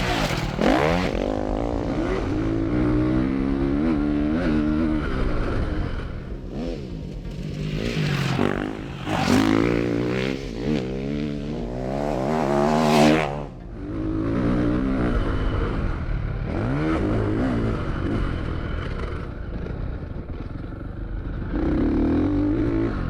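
A Ducati motocross motorcycle rips around laps, its engine loud and close with rising and falling revs, sharp throttle blips and gear changes throughout.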